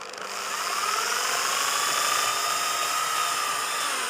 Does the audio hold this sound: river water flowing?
no